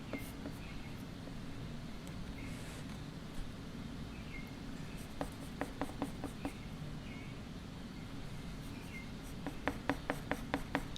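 Soft scratchy pencil strokes on paper against a quiet hiss, turning into rapid rhythmic bursts of shading, with faint birdsong in the distance.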